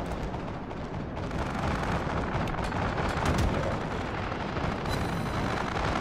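Rapid 40mm anti-aircraft guns aboard the Iowa battleship in World of Warships pound continuously, a dense, loud barrage of booming reports with sharp cracks layered over a steady rumble.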